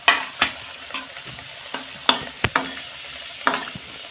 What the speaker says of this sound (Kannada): ಈಗ ಮೇಲ್ಗಡೆಯಿಂದ ಎಣ್ಣೆ ಹಾಕಿದರೆ ಕಾದಿರುತ್ತಲ್ಲ, ಅದು ಚೆನ್ನಾಗಿ ಎಲ್ಲ ಕಡೆ ಫ್ರೈ ಆಗಲಿಕ್ಕೆ ಸ್ಟಾರ್ಟ್ ಆಗುತ್ತೆ